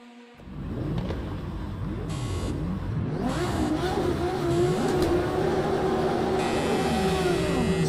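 Race car engines in the Project Cars 2 video game rev and accelerate through gear changes, a loud buzzing engine note rising and falling repeatedly as a pack of cars launches and pulls away.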